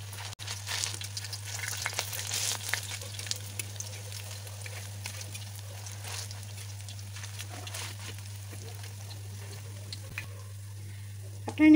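Chanda fish fritters (bara) fry in oil, giving a steady, continuous sizzle over a low background hum, with no voices.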